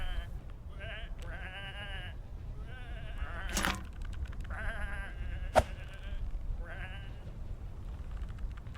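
Sheep bleat repeatedly in the video game Whateverland, several wavering calls in separate bursts with a sharp knock partway through, moderately near over a low background hum.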